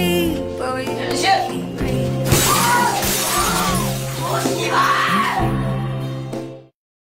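A glass window is smashed at a school, with loud crashing and shattering that continues for several seconds amid screaming and yelling before cutting off abruptly.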